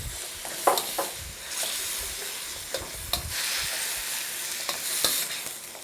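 Scallions and sugar snap peas hiss and crackle in a hot pan, with a steady sizzle broken by sharp scraping stirs and clatters at irregular intervals.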